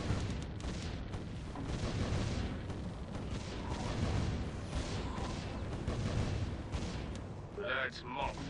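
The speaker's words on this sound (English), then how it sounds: "these cannons are just ripping into them" Rapid, continuous booming cannon fire from cannon towers in the tower-defense video game Defense Grid, dense and steady throughout, with talking over it.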